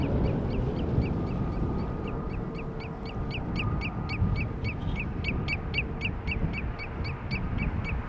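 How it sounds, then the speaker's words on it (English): Near Schiphol Airport, an unidentified bird repeats a distinct, rhythmic call about three times per second over a steady low background rumble, moderately faint and sustained throughout. "I don't see the bird, but it makes a very distinct noise."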